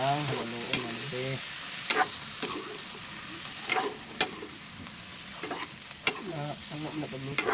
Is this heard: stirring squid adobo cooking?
yes